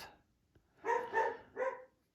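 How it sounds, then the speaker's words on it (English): A pet dog in a quiet house gives three clear barks, two close together and then one more after a short pause. The barks are moderately loud and near, with no talk over them. "I love that dog so much, but that barking, it makes me nuts."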